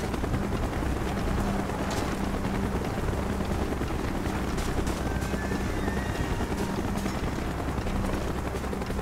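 A helicopter in the Call of Duty: Black Ops game approaches with a steady, loud rotor thump and turbine roar that fills the whole stretch without letup.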